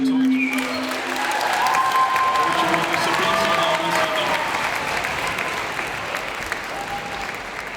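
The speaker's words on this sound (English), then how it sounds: "one more round of applause for our" A crowd applauds steadily throughout at a school opening ceremony, a dense wash of clapping that holds at an even level from start to finish, with a few scattered cheers.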